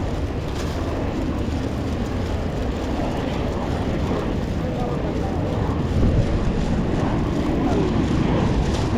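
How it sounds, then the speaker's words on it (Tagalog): Airplanes coming in to land near Changi, Singapore, make a steady, heavy low rumble that swells slightly toward the end, blended with wind buffeting the microphone. "yan na naman po yung mga eroplano na naglalapagan"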